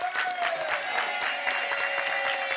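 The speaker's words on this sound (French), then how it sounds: "On applaudit Gwendal et Thomas." Studio audience on a French TV game show applauds steadily, a dense wash of clapping with a sustained musical tone underneath, moderately loud with no talking.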